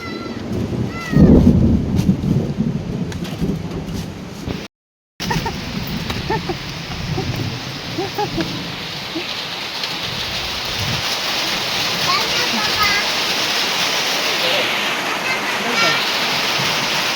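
Heavy rain pours steadily with a deep rumble of thunder early on; brief silence midway, then a dense, constant downpour.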